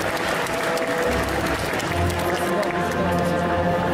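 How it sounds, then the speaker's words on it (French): Audience at a Saturday cosplay contest at the Yggdrasil Indoor 2020 festival applauding the contestants, steady clapping under music and a voice speaking over it. "Allez, on les applaudit encore une fois, s'il vous plaît"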